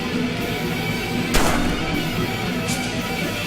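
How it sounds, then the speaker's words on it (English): A single sharp, loud gunshot cracks out in a video game amid a constant background drone, and a fainter second shot follows a moment later. "Another gunshot."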